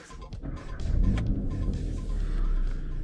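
An Audi S3 engine cranks and catches, settling into a low, steady idle rumble close by, with no talking.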